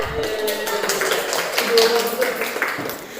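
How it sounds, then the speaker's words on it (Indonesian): Classroom applause from students, short and uneven, with scattered light claps and taps rising and falling over a few seconds while voices murmur underneath. "Tepuk tangan"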